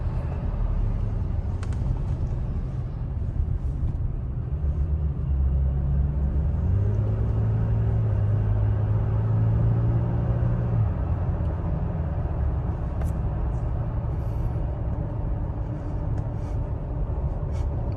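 Toyota Tacoma engine accelerating while merging onto a freeway, a loud steady low rumble with a rising drone in the middle as the revs climb, then settling back under road noise.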